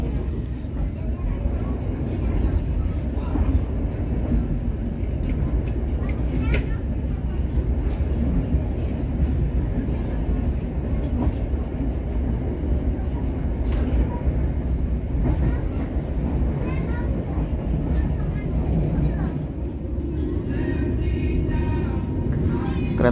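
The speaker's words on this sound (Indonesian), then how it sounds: "Kereta api Ciremai melintas langsung stasiun Sasak Saat." The Ciremai passenger train rumbles steadily through Sasaksaat station without stopping, a continuous heavy rolling roar with clattering wheels that holds the whole time, loud and close.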